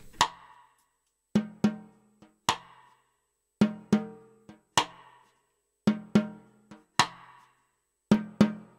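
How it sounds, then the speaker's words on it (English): A cha cha cha left-hand pattern played on a snare drum, sharp close hits in a repeating syncopated rhythm of single strokes and quick pairs, with short rings and silence between the groups. "So what I'll do is I'll just play the left hand part on the snare drum."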